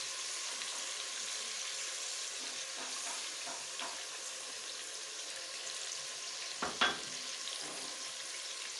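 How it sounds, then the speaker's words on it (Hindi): Ginger-garlic paste fries with mutton in a pan for nihari, giving a soft, continuous sizzling hiss, with a few faint stirring taps and a brief clatter near the end. "साथ ही मैं इसमें अदरक लहसुन का पेस्ट डाल रही हूँ।"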